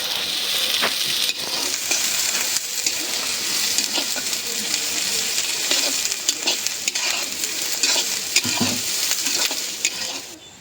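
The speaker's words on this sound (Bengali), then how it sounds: "দিয়ে দিলাম পেঁয়াজ।" Onions fry in oil in a pan in a village kitchen, a close, steady sizzle broken by repeated scraping and clacking as a spoon stirs them, without talk.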